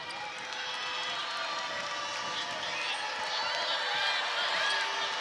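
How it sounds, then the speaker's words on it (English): A basketball crowd cheers and roars in the arena at a women's college game between NC State and Virginia at JPJ, with a steady, loud wash of voices that swells slightly toward the end. "Crowd trying to get back into it here"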